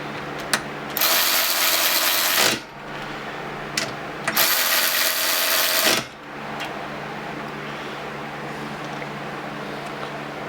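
Cordless impact wrenches from Snap-on, Milwaukee and DeWalt tightening bolts, heard as two loud sustained bursts of hammering whir, each lasting about one and a half seconds, with brief clicks between them and a quiet mechanical hum afterward.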